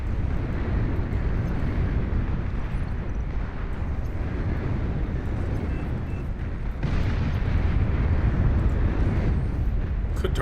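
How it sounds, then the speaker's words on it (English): A nuclear bomber in the game Beyond All Reason drones as a continuous, loud aircraft roar mixed with rumbling blasts, swelling slightly stronger partway through. "Nuclear missile launch detected. Nuclear bomber detected."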